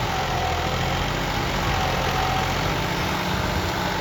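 A Massey 9500 tractor engine idles steadily, a low continuous rumble with no pauses, close by and alone.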